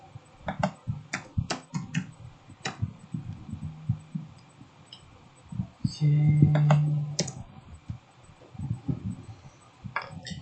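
Typing on a computer keyboard while writing Java code, heard as scattered close clicks and key taps in irregular bursts, with a brief low hum partway through.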